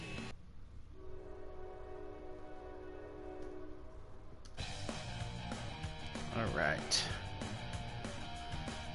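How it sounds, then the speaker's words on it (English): A train passes nearby, sounding a long sustained horn and then a louder rumbling clatter of wagons, with someone talking over it. "Forgive the train passing by."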